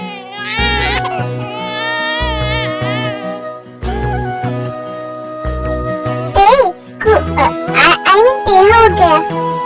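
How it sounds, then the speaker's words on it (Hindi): A baby wails in rising, strained cries over a steady musical backing with a bass pulse, the crying growing more agitated and shaky toward the end. "ये बच्चे की रोने की आवाज थी ना?"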